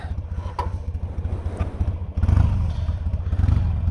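Harley-Davidson Sportster 883 motorcycle being ridden, its engine loud and close with a lumpy, pulsing rhythm that swells as it accelerates, the throb growing fuller and steadier.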